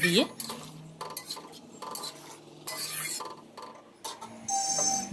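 Rohu fish curry with raw mango being stirred in a pot, intermittent metallic scrapes and clinks of a utensil against the pot with soft bubbling between them, close and fairly quiet, with brief voice-like tones.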